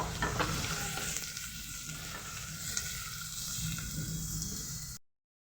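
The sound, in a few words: thinly sliced onions frying in pan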